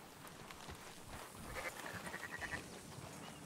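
Sheep bleat in a short run of repeated calls in Red Dead Redemption 2 while a flock is rounded up on horseback, rising over a steady outdoor game ambience, moderately near and without talk.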